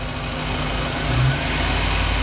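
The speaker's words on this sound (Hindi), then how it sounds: "गाड़ी को एक्सेलरेट करो थोड़ा सा" A Suzuki Cultus engine runs with the air conditioning on, a steady close drone that swells briefly as it is revved a little, then settles back to a constant hum.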